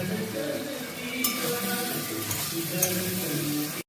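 Spice paste for katla fish curry with parwal and potato sizzles in oil in a pan while being stirred, a steady close frying hiss with scraping strokes throughout.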